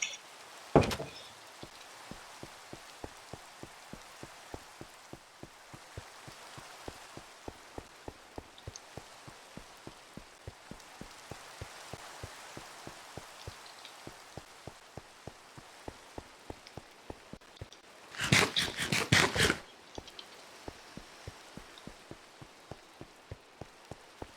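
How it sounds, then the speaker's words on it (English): Steady rain falls in a Minecraft-style block-building video game, a dense, even patter with regular ticking drops throughout, broken near the end by a brief louder burst of noise. "Oh, it's raining."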